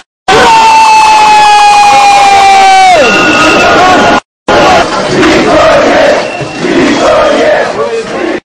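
A large protest crowd at a rally against election fraud roars and shouts in loud sustained chanting and yells, with a rising wail that drops off, then a brief gap before dense crowd noise resumes.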